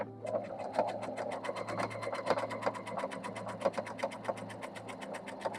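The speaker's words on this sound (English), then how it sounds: "we're going to sew down the other side." Sewing machine stitching down a quilt, a close, rapid rhythmic hum of even needle strokes running steadily throughout without speech.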